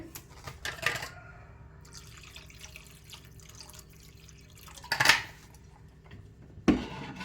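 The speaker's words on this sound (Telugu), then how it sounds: "పండు వేసిన తర్వాత మరొకసారి బాగా కలుపుకొని కొద్దిగా వాటర్ కూడా వేసుకోవాలి" Water is poured into a pot of tamarind pulusu, giving a soft splash and trickle with a couple of sharp metallic clinks against the vessel in a quiet kitchen.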